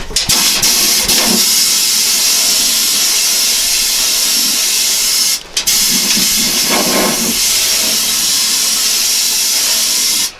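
Fluid Film rust-proofing aerosol sprays into a vehicle's frame rails in a loud, steady, close hiss that runs almost continuously, cut by one brief pause midway, with no talking.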